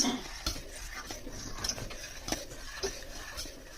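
Payasam mixed in a pot, a spoon scraping and tapping against the vessel in a loose, even rhythm of light clicks, close but quiet, without talk.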